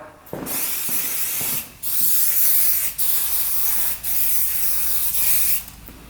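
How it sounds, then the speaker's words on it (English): Several long hissing bursts from an aerosol can of plastic restorer sprayed onto a quad, each lasting over a second with short pauses between, close to the microphone. "It's supposed to refurbish plastics, so we'll see. Just spray that on there."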